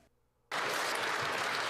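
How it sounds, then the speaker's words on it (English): Applause and cheering in a parliamentary chamber at question period erupt abruptly after near silence, turning into a loud, dense, sustained roar of clapping. "notice how much louder the cheering is getting?"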